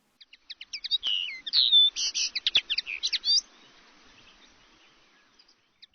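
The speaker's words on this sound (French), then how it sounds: "des chants d'oiseaux à foison, de quoi remplir l'âme" Small birds chirp and trill in garden trees during spring, a burst of rapid, high twittering calls packed into a couple of seconds, then trailing off into near silence with a few faint distant chirps.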